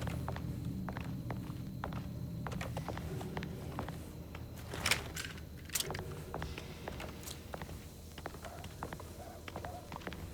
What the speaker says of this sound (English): I'm still hearing footsteps